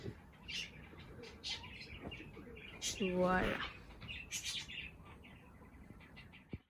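Large parakeets, tame pet birds in breeding season, give a rising cluster of harmonic calls during a courtship display, with softer chirps scattered around and a person speaking briefly.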